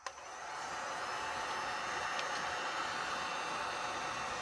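A Furno 500 heat gun blows on its low fan setting with mid-range heat while warming an ink swirl tumbler, a steady airy rush of close hiss that holds constant after a small click at the start.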